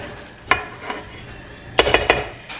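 A Danish dough whisk works dough in a bowl, giving a few sharp knocks and scrapes, one early and a quick cluster of three or four near the end, close and fairly loud.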